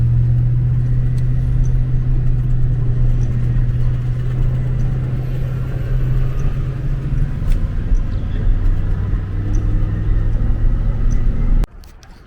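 A truck towing a trailer on the highway gives a steady, loud low rumble of engine and road noise with a droning tone, then cuts off abruptly near the end.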